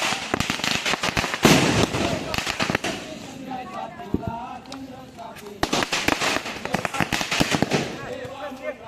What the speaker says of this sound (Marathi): या साईडला फटाके लावतो सगळेजण